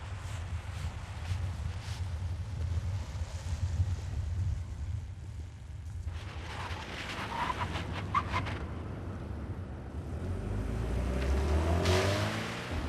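A Mercedes-Benz C-Class W202 driving on a test track, a steady engine and tyre drone with wind rush, growing louder and heavier toward the end.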